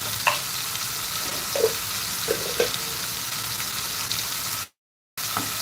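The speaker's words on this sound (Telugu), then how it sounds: "ఈ విధంగా కలుపుకుంటూ మటన్ అయితే చక్కగా ఫ్రై చేసుకుంటూ ఉండాలి" Mutton pieces coated in chili powder and masala spice powder sizzle steadily in a hot pan while being stirred, with occasional scraping under the constant loud frying hiss.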